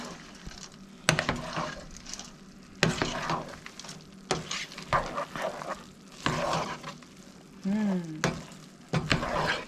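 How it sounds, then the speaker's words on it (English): Thanksgiving stuffing being scooped, turned and mixed in a pot, with soft irregular scraping and clinking of a utensil against metal, plus brief bursts of louder handling noise. "You just kind of scoop and turn and mix it all together."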